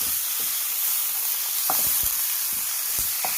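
Large pieces from a kilo of chicken frying in masala for a toddy-shop style Kerala chicken curry: a steady close sizzle with scattered scraping clicks from stirring.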